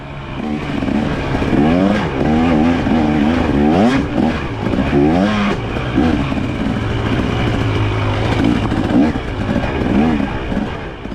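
Dirt bike engines rev and rise in pitch one after another during a hare scramble race, loud and close, with throttle climbing and falling throughout.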